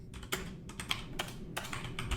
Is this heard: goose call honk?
no